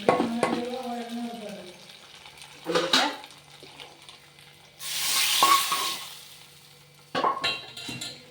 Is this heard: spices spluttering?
yes